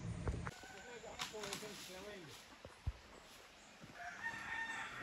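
Chickens on a farm cluck in a short scattered series and a rooster gives a crow, fairly close, with people talking intermittently around them.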